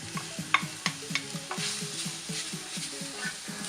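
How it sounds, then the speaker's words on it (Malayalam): Cooked cowpeas and spinach stems being stirred into a spice paste in a pan, with a steady rhythm of scraping spoon strokes over a soft sizzle, close and moderately loud. "അതും നന്നായിട്ട് ഈ അരപ്പുമായിട്ടൊന്ന് മിക്സ് ആവണം."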